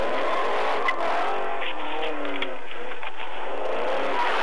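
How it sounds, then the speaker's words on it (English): Car fleeing a traffic stop on Van Dyke, captured on a police dash cam as the driver floors it past the squad car: loud engine roar, revving and tire squeal sweeping across, continuous and close. "The driver hits the gas and nearly slams into the squad car as he runs"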